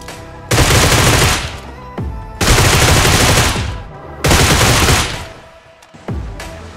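Rapid automatic gunfire from an online video game firefight, loud and close, coming in three long sustained bursts separated by brief pauses, with a shorter burst starting at the end.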